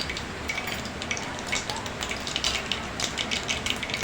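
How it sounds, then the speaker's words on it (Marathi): Mustard seeds crackling and spitting in hot oil inside a cooker, a dense steady sizzle with faint rapid pops throughout and no talking. "मोहरी छान तडतडली आहे"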